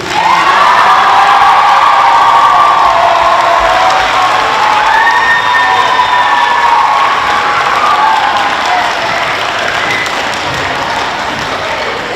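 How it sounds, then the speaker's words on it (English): A school geography bee audience bursts into loud, sustained applause and cheering with whoops and children shouting for a quiz contestant, filling the room steadily before slowly tapering off. "let's all give a round of applause for Colby"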